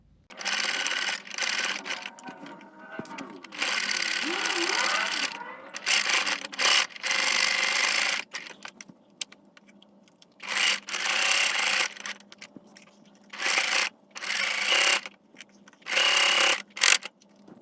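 Sewing machine stitching the sides of a sequin fabric face mask, starting and stopping in repeated short bursts of whirring with handling rubs and quiet gaps in between, close up.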